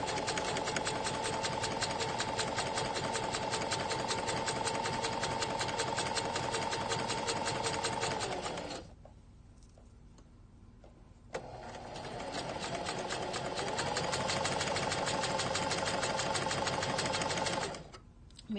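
A domestic sewing machine stitches a pinked seam along fabric at a 5/8 allowance, running in a steady, loud, close whir, stopping briefly midway, then resuming before cutting off near the end.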